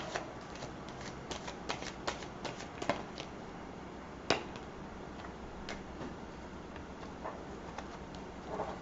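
Playing cards being shuffled by hand, a quiet run of crisp riffles and flicking snaps with a few sharper clacks, close and soft with no talking.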